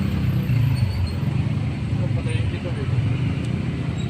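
Road traffic near the Taytay Rizal market, a continuous close rumble of engines and passing vehicles heard from a moving tuk-tuk, with steady low drone throughout.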